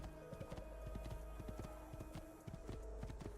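Rhythmic hoofbeats of a horse in Assassin's Creed 2 clip-clop steadily at a gallop over a low background hum, fairly faint and even-paced.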